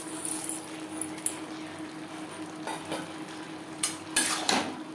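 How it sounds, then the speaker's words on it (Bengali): Bottle gourd with slit green chilies and fried lentil dumplings is stirred in a pan for a niramish lau ghonto, giving soft scraping clinks and a few sharper utensil knocks over a steady low sizzle, close and moderate. "লাউর সাথে কাঁচা লঙ্কা ও বড়ি বেশ ভালো করে মিক্স করে দেব।"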